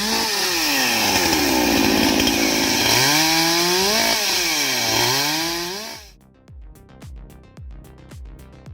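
A chainsaw cuts firewood resting on a sawing trestle, a loud close engine whine rising and falling with throttle for about six seconds, then dropping to a rhythmic idle sputter.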